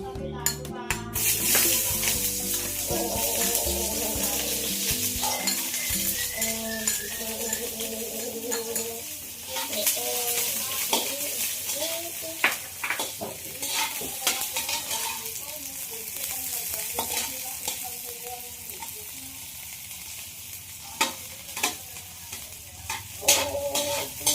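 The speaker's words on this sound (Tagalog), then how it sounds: "Now let's put the onion." Onion hits hot oil in a pan for adobong sitaw, and a busy sizzle follows with frequent stirring scrapes and utensil clinks; voices talk briefly at the start.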